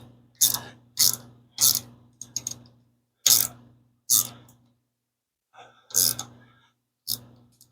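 Rapid ratcheting bursts from tightening a valve lash adjuster on an engine during setup, eight or so short clicking pulls spaced about half a second apart with a pause midway, close and crisp.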